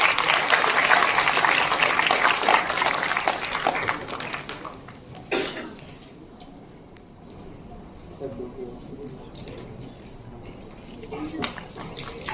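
Conference audience applause for an honoree at an international conference, dense clapping for the first few seconds that fades into scattered claps, coughs and room noise.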